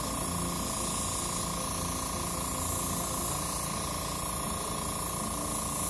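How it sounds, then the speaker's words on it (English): A steady, continuous airbrush hiss of black paint sprayed lightly from a distance onto leather, even and unbroken throughout, close and moderately loud. "we'll just lightly spray from far away, spray a little black"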